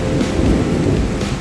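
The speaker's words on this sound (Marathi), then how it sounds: "मुसळधार पाऊस चालू झालेलो असा गडगडता" Heavy April downpour with rumbling thunder, a dense, steady roar of rain close by that stays loud and continuous throughout, with low rolling thunder underneath and no voices.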